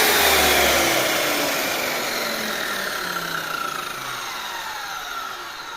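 A Dong Cheng DMY02-185 circular saw motor with a newly replaced stator runs up to a loud close whine and then winds down gradually, its pitch sliding lower as it coasts, no talk.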